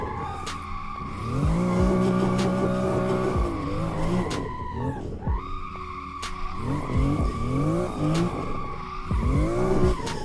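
BMW M2 on stock, non-drift suspension being drifted in the Assetto Corsa racing game, the engine revving hard and rising and falling while tires squeal and skid almost continuously, loud and close with no talking.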